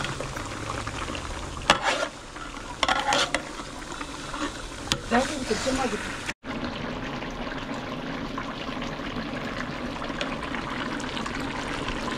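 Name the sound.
mutton being stirred while cooking in its own juices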